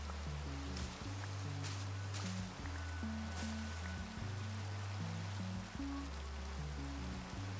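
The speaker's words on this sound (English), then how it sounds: "Maybe this will get rid of the rain" Rain patters steadily in the video game Minecraft, a constant soft hiss of falling water that continues throughout under a looping low musical score.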